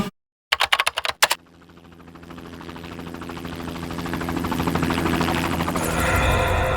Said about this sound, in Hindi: मुझे भी यही लगता है, ये हेलीकॉप्टर की ही आवाज है।